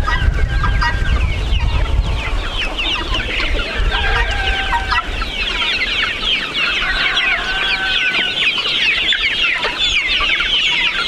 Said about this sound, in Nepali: भाले पनि त्यसै गरेको है